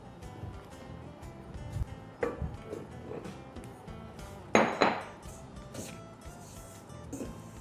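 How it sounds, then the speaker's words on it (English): A spatula folds flour and dry ingredients into a butter mixture for pandan pineapple tart dough, scraping softly in a bowl with a few sharp clinks against the bowl's side. "Now we're going to use a spatula to fold in the dry ingredients"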